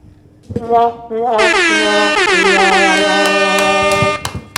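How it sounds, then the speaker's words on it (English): A loud, sustained brassy blare like an air horn, wavering in pitch over several seconds, preceded by a couple of short honks. "I was trying to do the air horn"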